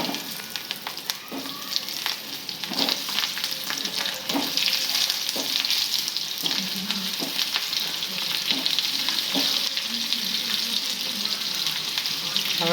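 Onions sizzle and crackle steadily in hot oil with asafoetida for a Gujarati onion curry, a loud continuous fry with occasional stirring scrapes and no talking.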